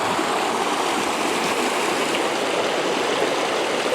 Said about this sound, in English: You'll see the creek here.